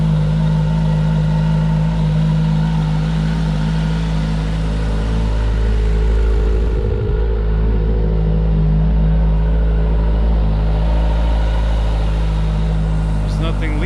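A rebuilt police motorcycle engine idles after firing up, a steady, loud, close rumble that holds unbroken throughout.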